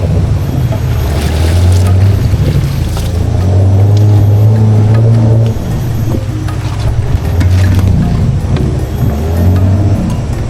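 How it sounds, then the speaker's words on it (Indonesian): A motorboat heads upriver on the Menyakan River through forest country, its engine droning loudly with rising and falling pitch over rushing water and wind. "perahu kami pun melaju dan memasuki Sungai Menyakan"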